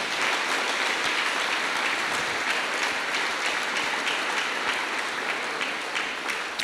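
A church congregation claps together during a Good Friday service, sustained loud applause with dense overlapping hand claps that continues at full strength throughout, with no speech over it.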